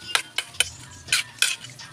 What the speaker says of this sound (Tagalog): Halu-haluin.